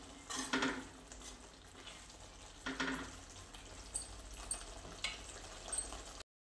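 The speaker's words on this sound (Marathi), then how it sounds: "तर छान असा तडका द्यायचा आपल्याला वरतून" Tempering for a Marathi spinach, pea and potato curry sizzles and crackles faintly in a pan, with a few brief bursts of frying and some sharp clinks and taps near the end, no talk.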